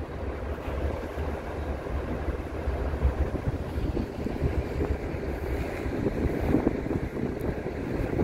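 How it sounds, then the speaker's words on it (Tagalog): Strong cold wind blows at an outdoor bus stop in Winnipeg at night, a steady roaring buffeting against the microphone that swells slightly toward the end. "Malamig ang hangin, malakas, windy."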